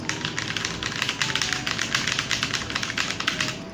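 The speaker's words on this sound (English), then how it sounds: "right now I'm going to type something else on air" Typing on a Tsunami MK61 mechanical keyboard fitted with OEM profile keycaps: a steady, fast run of close, crisp keystroke clacks with no talking.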